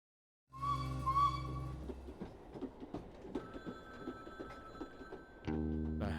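A phone booth telephone ringing in the Frog Detective 3 video game, heard as a repeated bell-like ring with a steady tone over background game music and sound effects.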